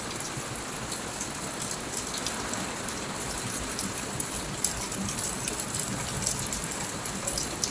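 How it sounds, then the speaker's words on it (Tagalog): Heavy rain driven by strong wind in the Philippines pours down in a dense, continuous roar, with gusty surges and scattered sharper splashes throughout. "Tapos yung ulan, inahampas niya yung ulan."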